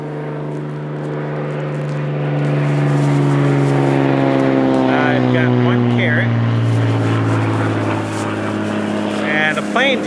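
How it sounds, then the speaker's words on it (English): An airplane passes overhead outdoors in the woods, its drone swelling and sliding downward in pitch as it goes by, then fading, with some brief rustling near the end. "Plane just flew by."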